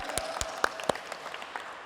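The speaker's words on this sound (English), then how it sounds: "So let's give her a round of applause" Light, scattered clapping from a small audience, a few distinct claps standing out over a soft patter.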